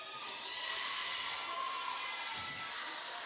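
A crowd cheers and shouts behind the Hebron bench at a girls' high school basketball tournament game against Kouts, a steady, bright roar of many voices holding through the whole stretch.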